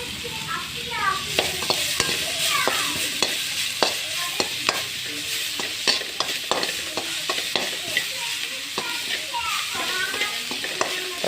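Tomatoes frying in oil in a pan for a tangy tamarind curry, a close steady sizzle broken by repeated sharp spatula scrapes and taps, with faint background voices.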